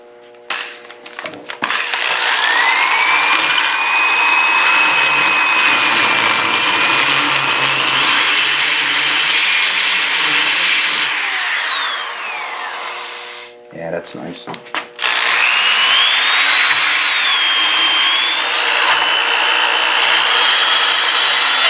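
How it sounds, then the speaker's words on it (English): A burr mill grinds down a metal edge on a surface grinder with a steady, high-pitched whine. It runs loud and close for about ten seconds, cuts out briefly, then resumes. "I'm going to take my burr mill and relieve that edge and soften it up a little bit"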